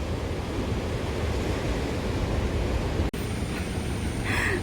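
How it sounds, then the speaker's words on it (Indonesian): Ocean surf rolls in at Bayah beach in Banten, a continuous loud wash of waves with wind noise buffeting the microphone, and a brief dropout near the end. "Ombaknya makin gede kalau pagi."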